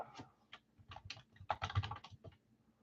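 Keys on a computer keyboard clatter in quick, uneven bursts, close and quiet, with short pauses between runs of keystrokes and no talking.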